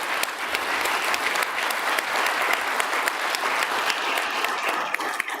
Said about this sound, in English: First, a round of applause to Ilan, and thank him for his insights.